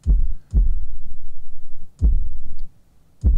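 Four deep, booming kick drum hits from a sample pitched far down, each a heavy thud with a long rumbling tail, spaced unevenly and played alone.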